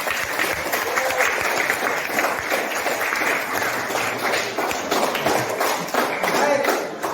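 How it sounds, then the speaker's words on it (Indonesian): A classroom of students claps together, a lively, slightly uneven burst of hand claps close by that holds steady for several seconds, with some scattered voices underneath. "tepuk tangan"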